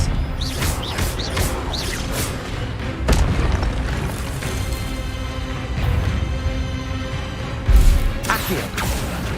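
Hogwarts Legacy spellcasting, with Expelliarmus among the spells, fires off repeated booming impacts and whooshing bursts over a dense, continuous layer of combat noise.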